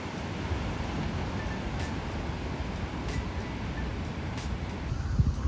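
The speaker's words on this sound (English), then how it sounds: "I decided to stop to show you the waves," Large surf breaking along the windy Gran Canaria coast, a steady roaring wash of ocean waves with wind buffeting the microphone, continuous and fairly distant with no talk.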